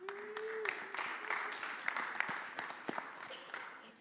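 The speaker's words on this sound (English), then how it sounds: "that deserves a round of applause" Applause from a conference audience at a Microsoft 365 compliance session, clapping that sounds distant and faint and fades away by the end, with a voice briefly heard at the start.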